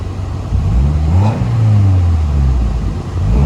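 Car engine running at a salvage auction yard walk-around, revving up steadily with a rising and falling mid-pitched drone, loud and close, no talking.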